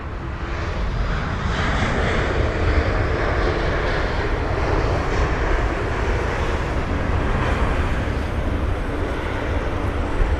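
A Turkish Airlines Airbus A321neo at London Heathrow fills the air with a loud, continuous engine roar, broad and rumbling, holding an even level from start to finish.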